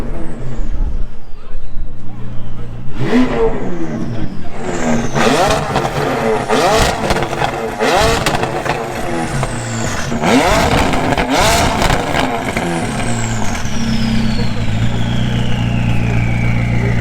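A modified McLaren 540C at a Cars and Coffee meet in Montpellier, loud close engine revs in repeated sharp blips and roars over crowd noise, with people talking nearby throughout.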